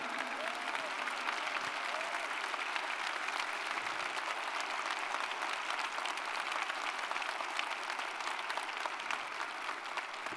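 Sustained applause fills a church sanctuary as a congregation claps continuously, an even wash of many hands at steady volume from start to finish.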